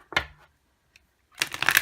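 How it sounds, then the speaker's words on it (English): A stiff new tarot deck being riffle shuffled: one short crisp burst of cards flicking together, a tiny tap, then a longer dense whirring riffle, close and moderately loud with no voices. "I do riffle shuffle."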